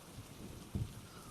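Steady rain falling outside, a soft broadband hiss with one brief louder patter partway through, heard alone without talk.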